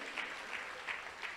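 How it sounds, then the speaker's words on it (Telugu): A church congregation clapping together, a continuous crowd applause of many hands at a moderate distance, steady and unbroken with no speech over it. "చప్పట్లు కొట్టగలరు ఒకసారి?"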